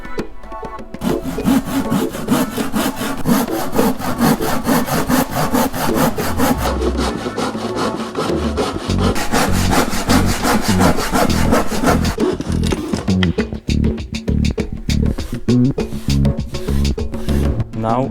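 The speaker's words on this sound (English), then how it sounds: "Using a simple handsaw we will cut it along this line." A simple handsaw cuts a scrap wood board for a DIY shelf in loud, rapid, rhythmic back-and-forth strokes that continue steadily throughout, close up, with no talk.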